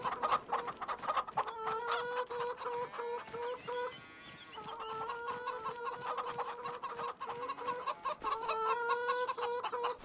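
Chickens on a homestead farm cluck steadily and overlap in a busy, continuous chorus, moderately loud with a brief dip midway before the clucking resumes.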